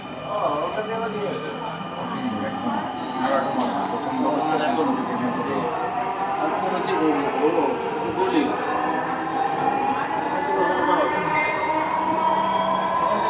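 A Dhaka metro rail train bound for Motijheel rumbles along with a steady mechanical drone and rising whine, while voices murmur and a recorded announcement plays inside the carriage.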